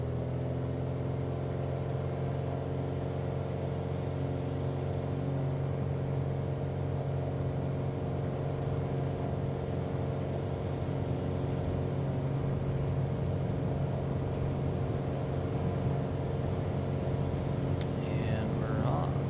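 An aircraft engine at full takeoff power in Microsoft Flight Simulator: a steady, loud droning hum with strong tonal layers that holds evenly throughout and rises slightly toward the end, with a voice talking at times over it.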